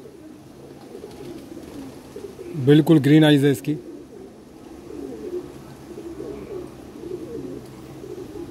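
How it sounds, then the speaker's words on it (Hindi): A green-eyed pigeon gives one short, fairly loud burst of cooing near the middle, close by, with someone talking over the quieter surroundings. "ये देखिए हरी आँख का कबूतर है"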